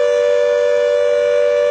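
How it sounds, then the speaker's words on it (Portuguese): A civil-defense-style warning siren blares a steady, loud, sustained tone at a bridge construction site on the BR-381 highway duplication, ahead of a blast, with no voices. "A sirene tocou!"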